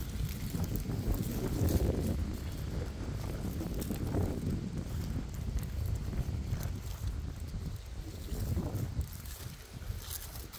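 Wind blowing outdoors in open country during a metal detecting outing, a steady loud rumbling gust noise buffeting close by for the whole stretch with no voices.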